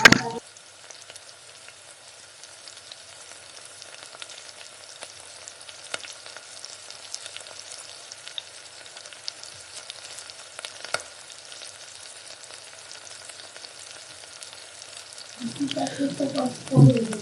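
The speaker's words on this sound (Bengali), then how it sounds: "মাছগুলো দেখতেই পাচ্ছেন আস্তে একটা করে আমরা ফ্রাই করে নিচ্ছি" Parshe fish fry in hot oil in a pan, giving a continuous soft sizzle with occasional crackles, joined near the end by a voice speaking.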